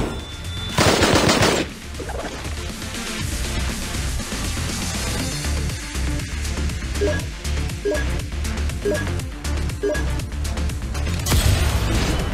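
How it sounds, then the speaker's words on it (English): Gunfire in the shooting video game Strike Royale, a 3v3 PvP match: dense, rapid automatic bursts fire almost continuously and loudly throughout, with a brief louder blast near the start and another at the end. "Every time when you have to shoot, shoot,"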